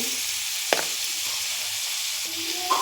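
Beetroot pieces with turmeric frying in oil in a pan, a steady close sizzle and hiss with a couple of brief stirring clinks.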